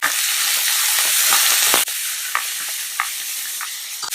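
Cumin seeds and chopped onion crackle and sizzle loudly in a tablespoon of hot oil, a dense steady hiss with a sharp drop in intensity partway through and occasional stirring scrapes afterward, no talking.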